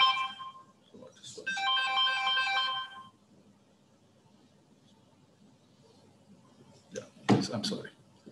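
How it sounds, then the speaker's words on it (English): A mobile phone ringtone goes off during an online webinar, a loud melodic ring lasting a few seconds before it stops, followed by near-silence and a brief clatter. "I forgot to put my phone on silent."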